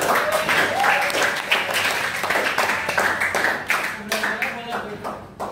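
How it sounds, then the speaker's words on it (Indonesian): A class of students claps hands together in a loose, uneven burst of applause, close by, with voices mixed in underneath. "Sebelum ditutup kita tepuk tangan kita semua."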